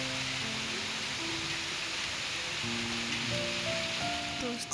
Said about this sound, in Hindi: बहुत दिनों बाद बारिश हो रही है